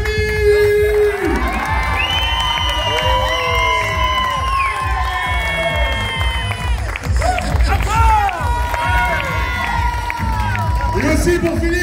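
A crowd at a poker club award ceremony cheers, whoops and shouts loudly and continuously, with excited voices overlapping throughout.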